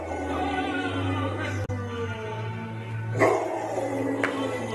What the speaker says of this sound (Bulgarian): кучето взе твоята част от изпълнението